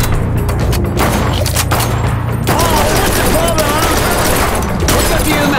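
Gunfire in the Blue Estate shooter game, dense loud bursts of shots and booms filling the whole stretch, with music and voices mixed underneath.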